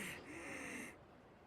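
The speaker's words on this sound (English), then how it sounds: "What was that breathing?" Heavy breathing from a character in the Yakuza 5 video game, a short breathy gasp or snort-like exhale that swells and fades within about a second, fairly quiet and alone.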